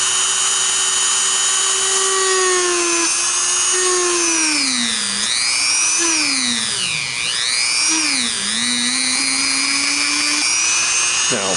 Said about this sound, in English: we're going to have to drill a hole in the hand as well